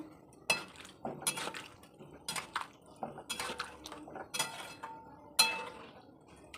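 A spoon stirs dal with spinach, salt and turmeric in a metal pot, giving repeated clinks and scrapes against the pot in an irregular rhythm, close and clear with no talking.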